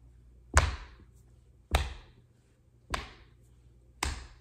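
Four evenly spaced, sharp, close percussive hits, alternating stomps and claps in a slow, steady rhythm during an early-childhood music lesson, with no talk between them.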